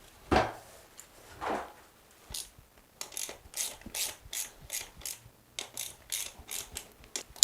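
A socket set ratchet turns bolts on a shower drain plate, with a couple of louder knocks first and then a close, steady series of rapid clicking strokes, evenly paced with short gaps between them.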